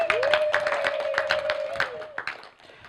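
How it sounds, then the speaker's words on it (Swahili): An audience claps in a sustained burst at a public meeting in Nzega district, Tanzania, dense applause running about two seconds before thinning out, with a drawn-out tone and a little chatter underneath. "Tuongeze makofi mengi ndugu zangu"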